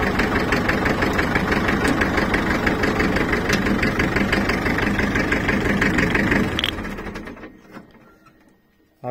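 Tractor engine idling nearby with a steady rhythmic diesel knock, then cut off, the chugging dying away into near silence.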